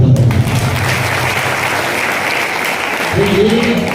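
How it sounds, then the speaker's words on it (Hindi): Crowd applause at an Aam Aadmi Party workers' rally in Meham, dense steady clapping throughout with a voice talking over it near the end. "शाबाश, ताली बजाओ सब"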